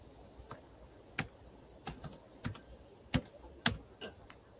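Typing on a computer keyboard, quiet sparse key clicks spaced irregularly about half a second to a second apart over a faint background, with no voices.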